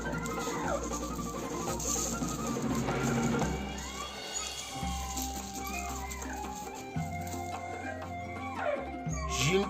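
Georgian mountain dog puppy, a five-month-old female, whimpering and whining in repeated high, wavering cries over steady low background noise, close and fairly loud throughout.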